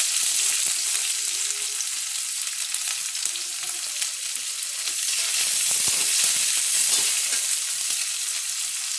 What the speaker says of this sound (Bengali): পেঁয়াজ কুচোগুলো এবার এর উপর দিয়ে দিচ্ছি।